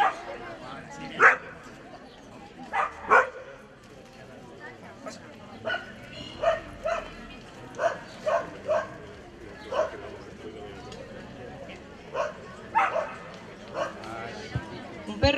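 At a dog park opening in Cascante, a dog gives short sharp barks and yips in irregular bursts through a demonstration, while a crowd murmurs and someone talks in the background.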